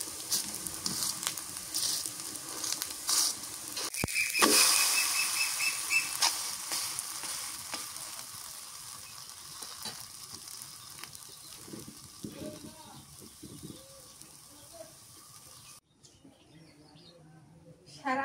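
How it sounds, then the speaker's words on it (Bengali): Chapra fries in mustard oil with onion leaves, garlic leaves, green chilies and coriander leaves, giving a steady soft sizzle that runs throughout. A sharp clatter near the start is followed by whistling tones, and talk is heard faintly at times. "পেঁয়াজের পাতা রসুনের পাতা কাঁচা মরিচ সর্ষের তেল সব কিছু দিয়ে ধনিয়ার পাতা দিয়ে চাপড়া ভাজতেছি"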